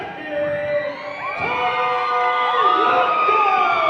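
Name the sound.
crowd cheering an ovation for a wrestler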